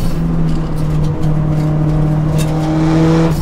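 Car engine accelerating out of mountain hairpin bends on a rough road, a steady loud engine drone with a rising pitch as it climbs through the gears, continuous and close, with no talking.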